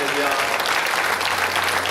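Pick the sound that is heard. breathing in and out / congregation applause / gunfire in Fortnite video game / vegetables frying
congregation applause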